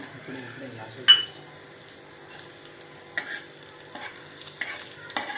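Cashew and almond pieces sautéing in a pan for carrot halwa, with soft stirring and a low sizzle broken by a few sharp clinks of a spoon against the pan, fairly quiet.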